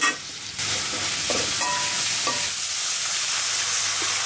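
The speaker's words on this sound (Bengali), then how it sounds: "একটু পেঁয়াজ ভেজে তুলে রাখবো" Onion frying in a pan surges into a loud, dense sizzle after a quieter opening moment and then holds steady, with a few faint utensil clinks; no talking.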